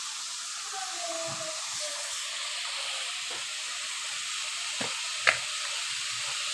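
Bottle gourd frying in a pan with onion paste and garlic paste, a steady loud hissing sizzle throughout, broken by a couple of sharp clinks from a utensil toward the end.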